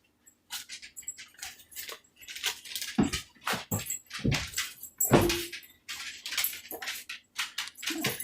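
A dog pads and shuffles around underfoot in a home kitchen, paws tapping and clicking on the floor in irregular bursts, with scattered knocks and clatter from cooking nearby.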